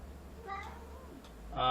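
A cat meows a few times at moderate distance, short tonal calls over a low background hum, ending with a louder cry.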